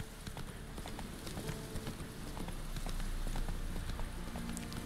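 Horse hooves galloping in The Witcher 3, a steady rapid clip-clop rhythm running the whole time, close and moderately loud over a faint ambient bed, with no speech.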